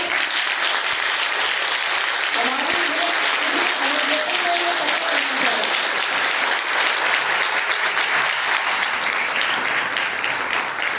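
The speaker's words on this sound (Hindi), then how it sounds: "एक बार जोरदार तालियां बेटा" Continuous, loud applause from an audience at a college NCC girls' battalion event in Lucknow, a dense, even wash of clapping that holds steady throughout with a brief voice heard faintly beneath it.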